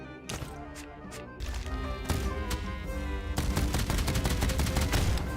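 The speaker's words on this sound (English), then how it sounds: "Machine gun. Large ammo clip. Fast firing." Fast-firing machine gun in Cat Quest III: rapid, evenly spaced gunshot bursts, sparse at first and then a dense, steady rattle over bright game music, close and loud.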